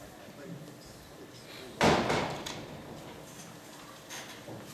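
A door at a town council meeting is pushed open with a sudden thump and rattle, then settles amid quiet room noise and faint background voices.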